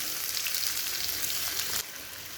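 Chopped onion hits hot oil with toasted cumin in a pan, giving a loud, steady hissing sizzle that suddenly softens near the end.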